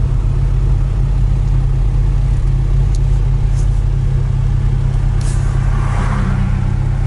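A 1987 Toyota standard pickup with a Weber carburetor drives through stop-and-go rush hour traffic, its engine droning steadily under constant road rumble without talk.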